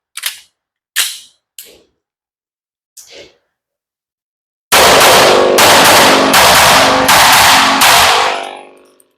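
Sig P211 GTO pistol fired in doubles across targets: four sharp separate shots first, then a rapid loud string of about seven close, cracking reports trailing into echo.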